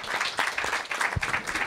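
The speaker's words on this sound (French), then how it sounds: "Moi, je t'applaudis" Applause from a small group, a brief round of clapping lasting under two seconds, fairly close and even, with no talk over it.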